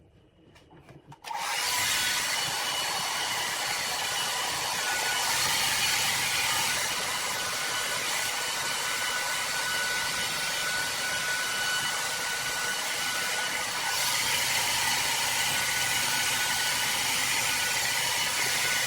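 A hair dryer switches on after a few quiet clicks and then blows in a loud, steady whoosh, its airflow shifting slightly as it moves.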